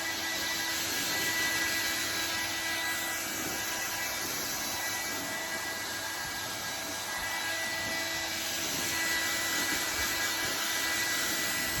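A hair dryer blows on a woman's hair treated with an out-bath treatment milk, giving a steady, unbroken whooshing roar at close range that holds nearly level throughout.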